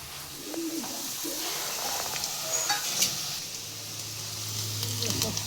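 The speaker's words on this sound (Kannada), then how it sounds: "ನೀಟಾಗಿ ಫ್ರೈ ಮಾಡ್ಕೋಬೇಕು." Greens frying in a pan while cooking carrot hunde, a soft, steady sizzle with occasional stirring scrapes, faint and low, with birds cooing nearby.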